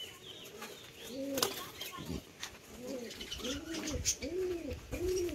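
A pigeon coos repeatedly in a household bird setup, soft rounded calls coming in a rhythmic series and growing more regular in the second half, close and clear.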